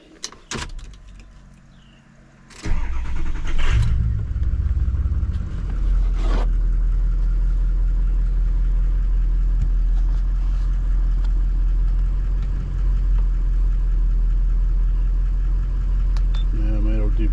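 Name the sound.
2003 Ford F250 truck engine starting and idling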